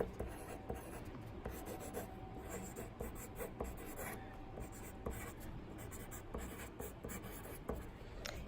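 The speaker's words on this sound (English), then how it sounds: "So I'm going to write my name." A pen or pencil writes a name on a sheet of paper in a classroom art lesson, giving a close, steady scratching across the whole stretch with small pauses between strokes.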